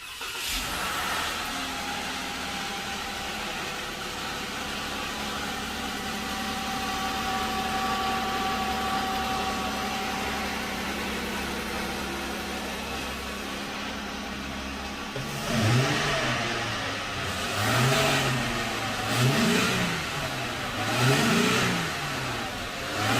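A Jeep Wrangler JK engine fitted with a K&N 77-Series air intake turns over and catches, settling into a rumbling idle, then revs up and down several times in rising bursts, close by.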